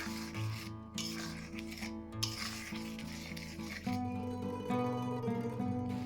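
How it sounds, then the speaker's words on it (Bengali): Mutton curry spice paste fries in a pan with a little added water while a spoon stirs and scrapes it steadily, a continuous close sizzle and rubbing with no voices. "এবার একটু জল দিয়ে মশলাটা ভালো করে কষিয়ে নেব।"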